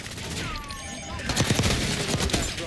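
Rapid bursts of gunfire in a shooter game, a loud crackling volley of close shots that intensifies partway through, with a voice faintly underneath.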